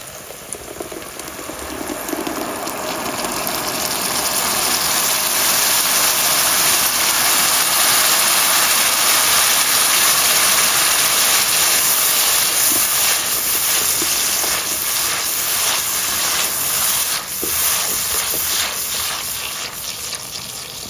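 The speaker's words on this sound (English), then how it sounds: "So be ready for some sizzling." A loud, continuous hissing sizzle carries on without pause, like food frying hard in a hot pot, steady throughout with no voices.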